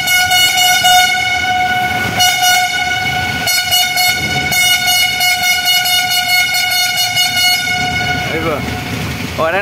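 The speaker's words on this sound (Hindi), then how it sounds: "हॉर्न का आवाज़ वाइब्रेशन मारता है उधर से उधर" A vehicle horn blares at night on a blocked road in Meghalaya, a loud, sustained multi-tone blast that repeats in long pulses with brief breaks, while voices talk nearby.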